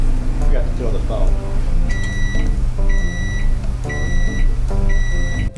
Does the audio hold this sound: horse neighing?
no